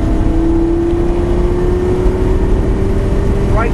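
A Lamborghini LP560-4 engine pulls steadily under acceleration on a test track, a loud, sustained drone that climbs slowly in pitch and is heard close up with no talking over it.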